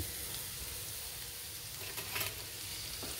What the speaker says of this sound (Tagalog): ilalagay na po natin yung sibuyas